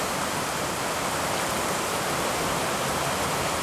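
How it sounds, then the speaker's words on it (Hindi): Heavy rain pours down in a dense, unbroken hiss, loud and steady throughout. "तो आप देख लीजिए कितना तेज़ बारिश हो रही है।"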